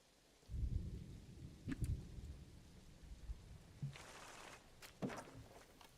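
Rain and thunder in the Planet Zoo game, with low rumbles rolling in and swelling over a soft, steady patter of rain, and a few sharper crackles near the end.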